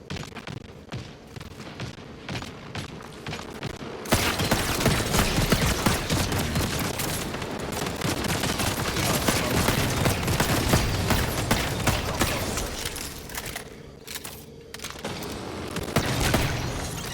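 Sustained automatic gunfire in the Marathon video game, loud and close, with rapid continuous bursts and booming impacts that run almost without pause before breaking into shorter volleys.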